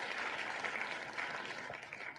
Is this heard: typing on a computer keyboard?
no